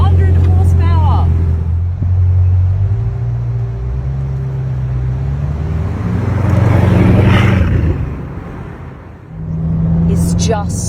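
A 1500-horsepower sports car in Autobahn mode pulls away, its engine note droning steadily and swelling louder mid-run before dipping and picking up again, with a voice speaking over it.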